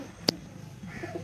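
Madrasi and Giribaz pigeons give faint, soft coos near the end, after a single sharp click, against a quiet background.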